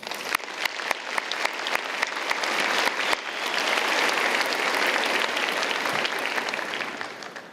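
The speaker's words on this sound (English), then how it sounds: "Come on, join me and give them a round of applause." A large audience claps steadily, starting with some distinct individual claps before swelling into dense, sustained applause that lingers.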